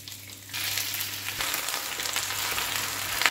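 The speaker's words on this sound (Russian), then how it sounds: "до золотистого цвета я буду сейчас обжаривать мясо и баклажаны" Chicken and eggplant sizzle in hot vegetable oil in a pan, a steady close crackling fry that swells up after a brief quiet start and keeps going without any talk.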